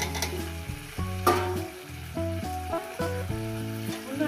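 Chicken curry with added potatoes, being sautéed, sizzles steadily in the pan while a spoon scrapes through it in periodic strokes, close and clear with no talk.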